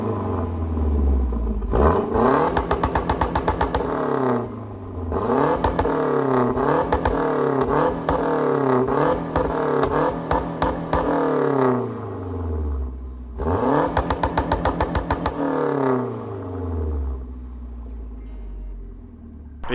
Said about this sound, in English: Gotta give you some exhaust clips